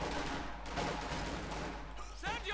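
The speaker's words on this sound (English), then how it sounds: "He's actually getting 50 caliber machine guns to assist." Heavy .50 caliber machine gun fire in Company of Heroes 2 during a 2v2 match, rapid bursts of gunfire rattling faintly in the background of a busy battlefield mix.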